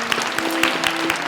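Brief burst of applause from a church congregation honoring elders during a Sunday service, dense even clapping at steady level with no talking.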